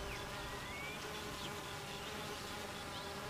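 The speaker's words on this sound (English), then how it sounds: "They even fan the hive with their wings to keep it cool on a hot summer day." Honey bees buzz steadily inside a hive as workers fan their wings to cool it on a hot summer day, a dense, continuous drone close by with no voices.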